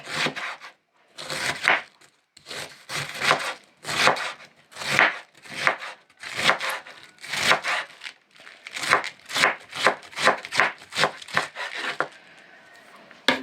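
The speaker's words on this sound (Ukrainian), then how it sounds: "ми нарізаємо капусточку, шинкуємо її дрібнесенька" A knife finely shreds cabbage on a board for cabbage and egg patties, rapid rhythmic chopping strokes in close bursts with brief pauses between runs.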